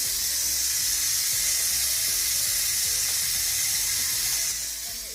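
Steam hissing steadily from a pressure cooker cooking pork bone broth, a loud continuous rushing hiss that tapers slightly at the end.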